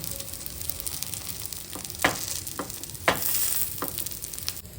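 Stuffed idli fries in ghee on a pan over medium flame, a steady close sizzle broken by several crisp spatula taps and scrapes, with no voices.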